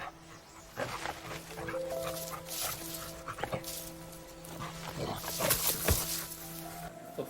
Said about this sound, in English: Who's back there making dog sounds?